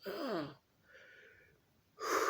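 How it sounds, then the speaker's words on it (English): One person lets out two long, breathy yawns, each a drawn-out voiced exhale, with a quiet stretch of soft breathing between them, close and alone without talk. "I hate being tired because I keep having to yawn."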